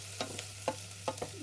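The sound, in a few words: stirring and frying nettles in a pan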